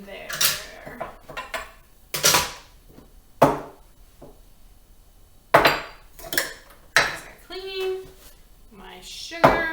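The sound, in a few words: dirty dishes being put into a bowl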